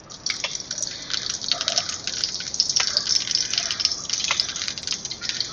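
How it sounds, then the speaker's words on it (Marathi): Two spoonfuls of cooking oil are poured into a pan on a gas stove, heard as a thin, close trickle and light dripping with scattered small splashes. "2 चमचे मी तेल टाकून घेत आहे."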